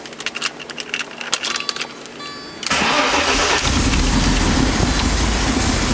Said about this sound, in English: Let's see if we can get a quick start up here. Bear in mind that car is completely cold.